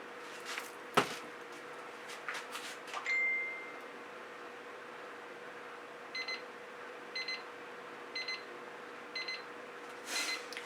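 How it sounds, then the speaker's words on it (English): A kitchen-style timer beeps in four short, evenly spaced bursts of bright tones during an acrylic fluid art pour, standing alone over a quiet background hum after some earlier clatter. "And that's my timer telling me"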